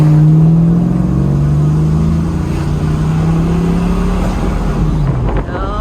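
A 1975 Chevrolet Camaro engine pulls under light throttle while driving, a loud close-up droning hum that rises slightly in pitch, then dips near the end.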